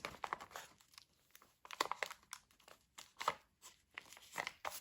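Clear tape crinkles and tears in quiet bursts while a package's cardboard corners are taped, soft rustling and short rips coming close up with pauses between.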